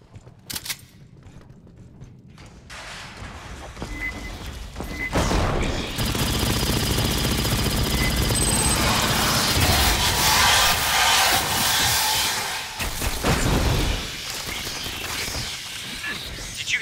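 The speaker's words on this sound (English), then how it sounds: "Did you hear explosions just now?" Heavy gunfire and booming blasts from the video game Aliens: Fireteam Elite roll on for several seconds, loud and dense, easing off briefly before more rumbling bursts follow.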